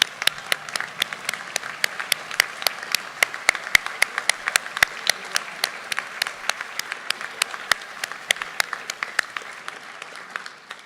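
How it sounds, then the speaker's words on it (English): Sparse, scattered hand claps ring out at a school graduation ceremony in honor of servicemen and women, with distinct individual sharp claps repeating irregularly rather than a full crowd roar, fairly close and clear. "Please stand and give a round of applause to honor all our servicemen and women."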